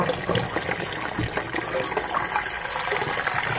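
Water gushing steadily into a container to make salt water for soaking freshly picked mangoes, a continuous close splashing pour with no talking.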